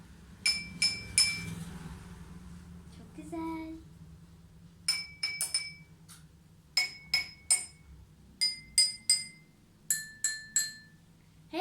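Drinking glasses are tapped with pencils in quick sets of bright ringing clinks, a few taps per group, with different pitches; a voice briefly hums a tone between them.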